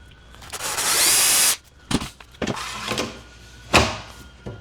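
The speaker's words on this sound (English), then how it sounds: "Drill that hole." Power drill boring a hole through cabinet wood, a loud steady whine for about a second and a half, followed by several short bursts and knocks of the tool close by.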